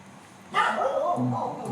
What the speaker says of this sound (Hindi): ये कुत्ते लोग भी भौंकने लगे यार